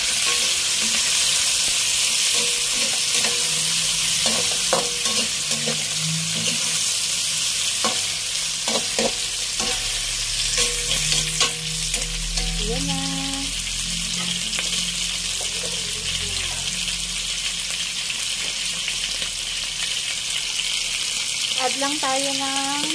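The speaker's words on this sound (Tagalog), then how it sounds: "Ilagay ang chicken liver and chicken gizzard." Chicken liver and gizzard frying for chopsuey, a loud continuous sizzle in a pan with repeated spatula scrapes and stirring clatter throughout, and a voice talking at times over the cooking.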